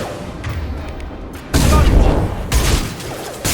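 Heavy gunfire in a firefight in Mass Effect 2 Legendary Edition, with dense bursts of shots and booming impacts that surge loud and close, then come again in a second barrage.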